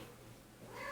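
Indoors in a house, a cat gives a faint, brief meow at the end of a second of quiet room noise.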